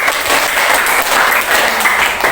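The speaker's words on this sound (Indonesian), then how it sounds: "Kita beri tepuk tangan dulu" Classroom applause from students, dense steady clapping for a couple of seconds, loud and close with no talk.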